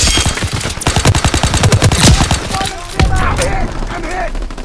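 Gunfire in the video game Call of Duty WWII: rapid, loud bursts of automatic weapon fire in a dense rhythmic stream, then scattered heavier shots and battle noise, with shouted voices mixed in.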